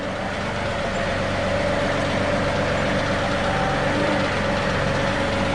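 Steady, loud, close engine drone of a John Deere 2038R compact tractor fitted with a 270B backhoe as it drives back on uneven ground, unbroken for the whole stretch with no talk.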